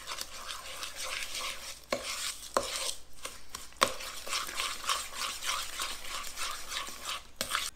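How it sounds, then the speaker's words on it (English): A spoon stirs and creams cake batter for a chocolate chip cake in a pan, making steady soft scraping and clicking strokes close by with a few sharper knocks against the pan's side, no voices. "I'm just gonna kinda cream this together with my spoon at this point"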